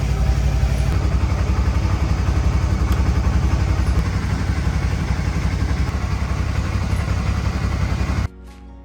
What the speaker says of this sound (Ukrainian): мотоцикл завівся класно